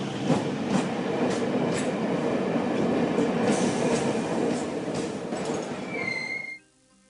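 A train rumbles along with rhythmic wheel clatter and a few metallic squeals as it arrives at a station, loud and steady before it cuts off abruptly near the end.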